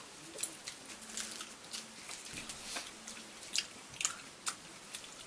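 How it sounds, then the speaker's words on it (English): Close, wet smacking and crunchy chewing while eating seafood with sauce and Persian cucumbers, as steady clicks and crunches with no talking. "Can you stop smacking so loud, eating like that?"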